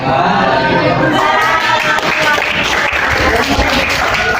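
Sustained applause from a classroom audience in an Indonesian teacher-training session for Islamic cultural history, steady and dense for the whole span with no gaps.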